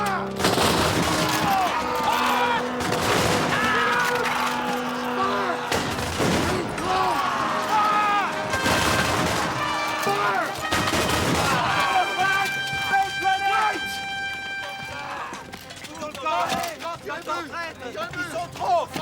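Musket volleys crash in sequence on a battlefield during a siege, several loud booming fusillades spaced a few seconds apart, with shouted commands and battle noise around them.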